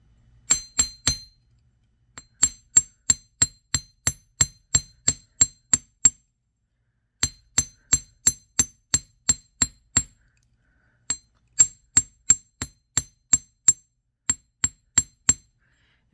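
A hammer strikes a hoop earring wire to flatten and texture it, giving rapid, evenly spaced, sharp metallic clinks in several bursts with brief pauses between them, close and loud.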